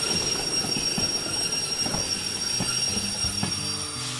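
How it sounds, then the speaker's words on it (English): Train brakes squeal in the Derail Valley railway simulation game, a thin, sustained high-pitched whine over the low rumble and intermittent clunks of rolling rail cars, with no talking. "I am hearing a brake somewhere."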